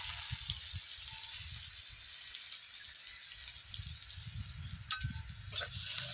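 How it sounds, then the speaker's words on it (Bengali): Chopped garlic and radhuni spice fry in oil left over from frying small fish, giving a steady bright sizzle with soft bubbling and stirring underneath and a couple of sharper spits, without any talking. "রসুনটা একটু লাল লাল করে ভেজে নেব।"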